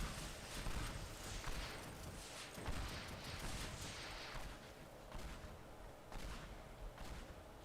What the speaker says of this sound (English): this shoots out explosive projectiles